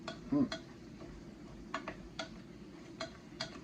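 Cashews toasting in a pan for Thai cashew chicken, stirred with scattered light ticks and taps of the spoon on the pan over a faint, quiet background sizzle.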